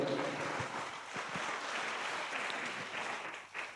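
A church congregation applauds at a French-language sermon, a fairly faint, steady patter of many hands clapping that fades slightly toward the end.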